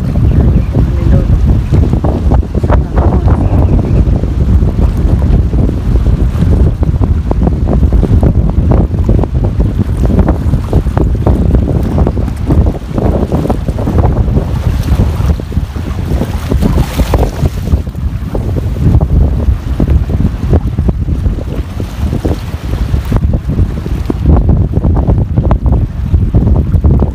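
Strong amihan monsoon wind roars over a boat at sea, a loud, continuous buffeting rush with wind noise on the microphone and a steady wash of waves throughout.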